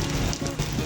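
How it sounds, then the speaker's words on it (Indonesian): Steady rain falls on a street in Malioboro, Yogyakarta, a dense, close wash of patter and splashes that continues throughout the short stretch with no clear speech. "Aduh, lihat nih hujan."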